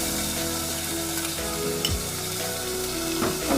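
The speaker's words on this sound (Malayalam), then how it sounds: "അണ്ടിപ്പരിപ്പും കിസ്മിസൊക്കെ ഒന്ന് ഫ്രൈ ചെയ്തെടുക്കാം" Cashews and raisins fry in a mix of ghee and oil, a steady close sizzle running throughout with occasional stirring scrapes and no talking.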